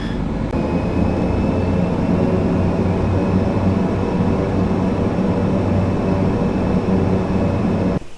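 An ATR 72-600 turboprop taxis at Leeds Bradford in Microsoft Flight Simulator, a loud, constant engine drone with a steady low rumble and a thin high whine running evenly throughout.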